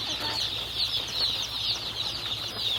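A batch of pastured baby chicks peeps in a dense, continuous high chorus, close by, with soft flutters and no talk over it.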